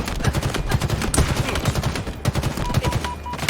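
Rapid gunfire from Halo Infinite plays in fast, even bursts of sharp shots, loud and nearly nonstop, with brief gaps between volleys.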